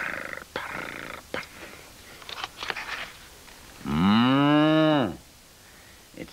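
A cow gives one loud, drawn-out moo up close, rising then falling, after a few scattered thumps and small sounds in a quiet setting.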